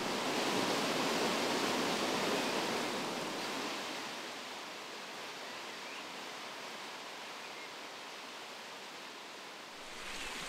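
A Corsican river drops over a ledge as a waterfall, a steady broadband roar of falling water, loud and unbroken, easing slightly in level partway through.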